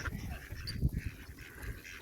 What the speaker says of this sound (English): even the ducks are starting to skid around, and the moorhens